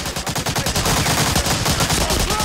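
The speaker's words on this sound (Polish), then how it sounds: "Nie przechodziły moje strzały w ogóle, nie?" Rapid automatic gunfire from the World War II shooter Medal of Honor Allied Assault, a dense rattle of loud repeated shots with no pauses, loud and close throughout.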